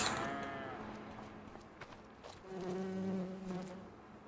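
Dairy cattle in the Farming Simulator video game let out a sustained, loud moo over a steady bed of buzzing insects, with fainter calls and scattered clicks before it.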